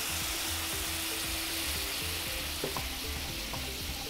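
Cream poured over browned garlic in a hot pan, giving a steady close sizzle with a faint low hum beneath and a few brief clinks near the end; no one speaks.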